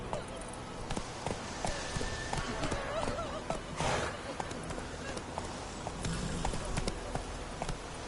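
A horse gallops through The Witcher 3 video game, its steady, close hoofbeats drumming throughout while a rider's voice calls out over the running.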